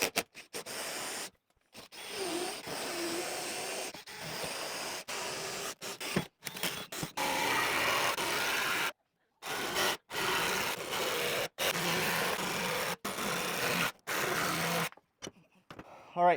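A hole saw cuts into a piece of wood in a small woodshop, grinding and rasping in steady stretches broken by several short pauses, close and fairly loud.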